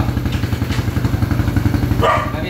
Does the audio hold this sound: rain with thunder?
no